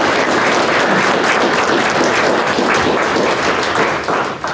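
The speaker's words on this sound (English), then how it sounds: "I'd ask for a round of applause for these people who helped" A county board meeting crowd gives a round of applause for veterans, steady, dense clapping filling the room for several seconds before tapering slightly at the end.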